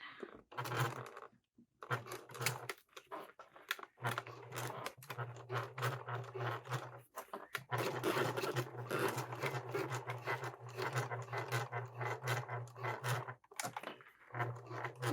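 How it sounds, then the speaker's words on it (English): A sewing machine stitches over the end of a sling bag with stabilizer, giving a steady low motor hum and rapid needle chatter in bursts with short pauses, close but fairly quiet. "And I'm going to sew over this end."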